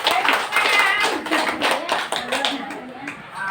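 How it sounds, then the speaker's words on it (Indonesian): A class of children claps their hands together in a schoolroom, a dense run of fairly loud, quick claps lasting a few seconds with some children's voices mixed in. "Tepuk tangan untuk buku."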